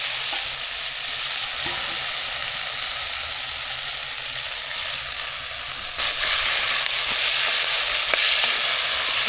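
Small onions and tomato fry steadily in oil for a village-style onion kuzhambu, a dense continuous sizzle that swells louder near the end, with no talking.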